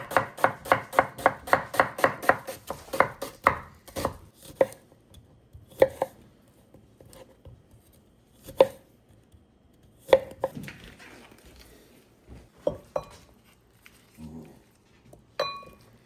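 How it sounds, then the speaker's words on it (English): Knife chopping cilantro, onions and limes on a cutting board: a fast run of sharp, close chops at first, then slower scattered cuts with quiet pauses between, no talking. "we're going to chop up some cilantro, we're going to cut up some onions, we're going to cut up some limes"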